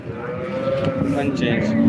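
A cow lows with a long, steady moo at a busy cattle market, close and fairly loud, with market chatter and background voices underneath.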